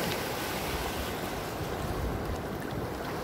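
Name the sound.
Pacific Ocean waves at sandbar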